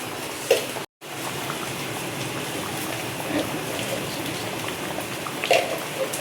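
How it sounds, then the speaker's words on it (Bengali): A pot of mung dal with colocasia boils steadily, giving a soft, continuous bubbling and simmering hiss, with a few louder pops and a brief dropout near the start. "দেখো কত সুন্দর ফোট এসে গেছে"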